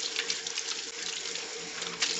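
Warm tap water runs steadily from a faucet while the cover of a Keurig K Slim single-serve coffee maker is washed with dish soap, a continuous close hiss with small splashy bursts.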